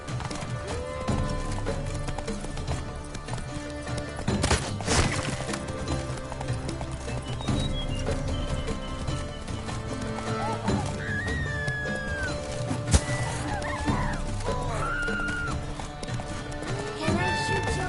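Roach the horse gallops in The Witcher 3: Wild Hunt – Blood and Wine, a steady clip-clop of hooves with an occasional whinny over game music and ambient effects, with voices talking at times.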